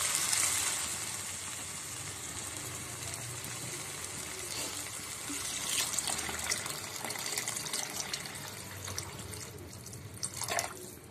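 Water is poured into a pan of toor dal, making a steady splashing, trickling stream close by that swells slightly toward the end, with no talking.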